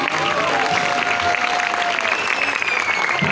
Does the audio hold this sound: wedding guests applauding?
yes